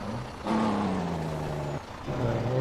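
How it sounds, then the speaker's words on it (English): Loud semi truck engine in Farming Simulator 19 on the Richport map, a steady deep rumble with a rising whine, a brief dip near the end, then the heavy drone returning, close and alone. "Wow, this semi's loud."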